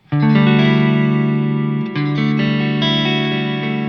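A single sustained D spread triad rings out on a distorted, effects-heavy electric guitar, struck once and re-struck near the middle, droning steadily.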